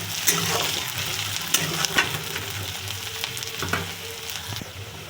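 Green chillies fry in a pan for an aloo begun bhorta, a steady close sizzle with a few sharp spits and pops and occasional stirring clatter, no voices.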